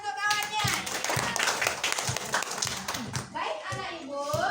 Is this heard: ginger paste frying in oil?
no